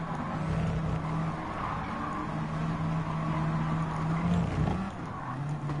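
A race car's engine drones steadily in Gran Turismo 7, holding a sustained pitch with a slight rise near the end, close and continuous, with no talk over it.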